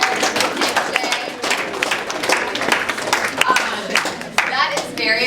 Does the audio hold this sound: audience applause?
yes